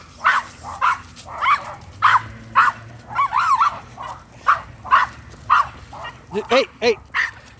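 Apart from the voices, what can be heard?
pitbull dogs barking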